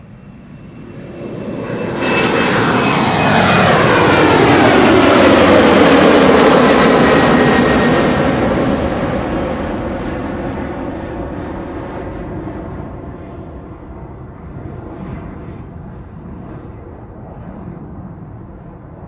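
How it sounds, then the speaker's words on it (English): KLM Embraer 190 airliner, 14 years old, roaring past at Schiphol Airport: a loud jet engine swell rising over a few seconds, with a sweeping pitch shift as it passes, then a long fading rumble. "Alrighty, Embraer 190 to Inverness up next."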